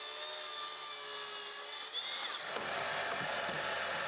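Plywood being cut into trim pieces in a workshop, a steady rasping saw stroke and hum that shifts to a coarser, rougher grinding partway through, close and continuous.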